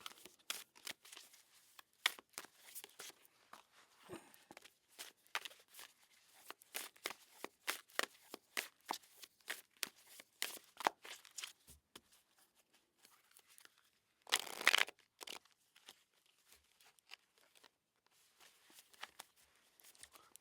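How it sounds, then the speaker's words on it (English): A tarot card deck being shuffled and cut, heard as a long run of quick, crisp card riffles and snaps at close range, with a denser burst of shuffling near the middle and no talk. "let's cut this deck"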